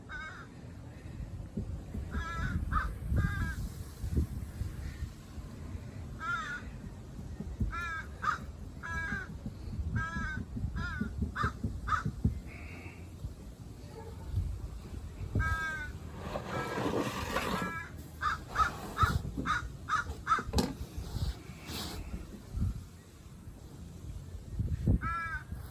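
Two crows caw repeatedly from overhead in bursts of harsh calls, fairly close and clear over a low rumbling background, with gaps between the calling bouts.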